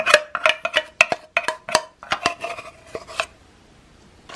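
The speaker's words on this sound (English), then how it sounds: "Now the chocolate is being stirred into the batter" Chocolate stirred into a cookie batter made from an old 1800s recipe: a spoon knocks and scrapes rhythmically against the mixing bowl in a quick run of sharp clinks that slows and stops.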